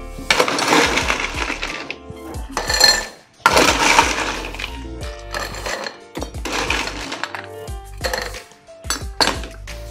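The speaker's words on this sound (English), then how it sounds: "fill this glass with lots of ice" Ice cubes tumble into a large glass for a margarita, making loud, close clattering and clinking in several quick bursts with short pauses between them. No one talks.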